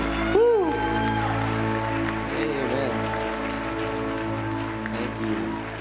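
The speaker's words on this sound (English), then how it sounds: "Clap offering for a great God we have." A church congregation claps steadily and fairly loudly alongside sustained organ or keyboard chords, with a voice briefly rising over the music near the start.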